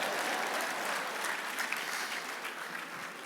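Audience applause fills a leadership conference hall, a dense steady wash of many hands clapping that holds loud and even throughout, with no voices over it.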